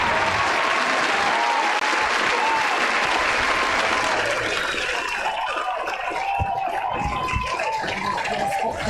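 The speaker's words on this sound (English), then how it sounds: "let's give a round of applause for my guest, Austen Brantley" Studio audience applause welcomes a guest onto a talk show, a loud sustained wash of clapping that holds for several seconds and then thins slightly, with cheering voices mixed in.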